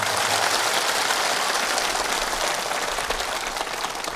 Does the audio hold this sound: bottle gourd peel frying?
no